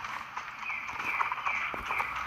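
Horse hooves clip-clop at a steady trot in the video game Star Stable, a fairly even stream of light beats over a continuous bright in-game tone.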